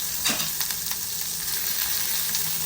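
Boiled banana stem hits hot tempering oil with asafoetida and urad dal, giving a steady close sizzle broken by soft stirring scrapes, with no talking.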